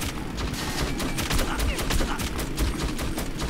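Gunfire from the video game Metro 2033 hits as rapid, repeated sharp shots in a steady stream of bursts, loud and close, running the whole time over a busy background.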